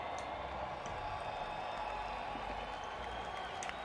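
Large arena crowd at the Fortnite World Cup finals in New York cheering and applauding, a continuous distant roar of voices with faint scattered claps, steady and unbroken.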